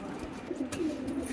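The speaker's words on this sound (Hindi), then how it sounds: "ये भी मद्रासी कबूतर है" Madrasi pigeons in a pigeon shop giving soft, low throaty coos, a couple of brief murmuring calls close by against a muffled background.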